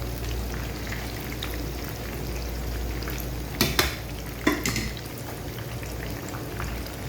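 Fish frying over a slow flame, restaurant-style fish fry: a steady close sizzle of oil running throughout, with a couple of brief louder clatters or spatters partway through.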